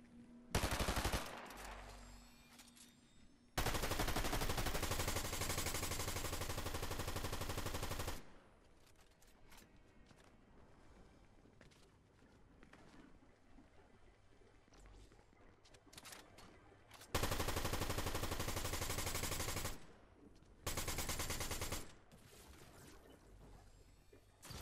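Bursts of rapid gunfire from the video game Fortnite, several loud sustained volleys separated by quieter stretches of game ambience.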